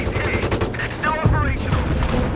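A 7.62mm M240 coaxial machine gun firing in Battlefield 3, with loud, dense rapid bursts of close gunfire and heavy low booms layered over battlefield noise, continuous through the short span.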